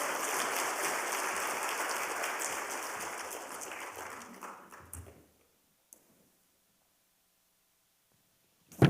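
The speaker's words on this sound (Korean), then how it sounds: "우리 박수로 환영하겠습니다" A congregation at a Wednesday church service applauds to welcome a pastor, with dense clapping that gradually fades out after about five seconds into near silence, followed by a brief faint knock.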